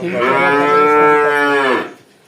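A single long, loud moo from a Friesian heifer at a dairy farm, a rich harmonic bellow lasting nearly two seconds before fading into quiet.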